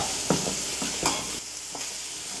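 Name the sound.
sautéing chili powder, garam masala, turmeric with onion and tomato in oil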